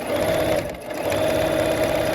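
Sewing machine stitching a row of a color-play quilt, running at a fast steady hum with a brief dip in speed partway through, close and loud with no talking.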